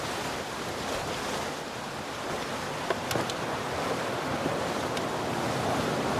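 Ocean waves break and wash on the shore around an island, a steady close roar of surf mixed with wind buffeting the microphone, with no voices.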